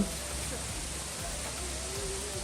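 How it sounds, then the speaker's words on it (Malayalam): Heavy rain pours steadily outdoors as people walk down from a high viewpoint, a dense, even hiss of falling water that holds at a constant level for the whole moment. "ഈ ഒരു ടൈമൊക്കെ ആയപ്പോൾ മഴ നന്നായിട്ട് കൂടിയിട്ടുണ്ടായിരുന്നു"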